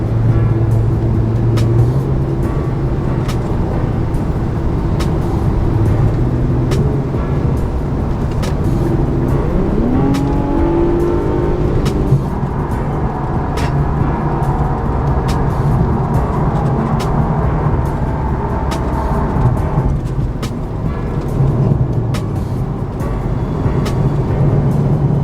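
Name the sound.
Infiniti Q50 3.0T with Invidia exhaust revving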